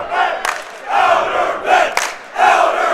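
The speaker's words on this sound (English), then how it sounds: "the cheering section is getting up for these last few moments of the JV game" A student cheering section at a high school JV basketball game yells in rising bursts, roughly four surges of crowd shouting with brief dips between, loud and close.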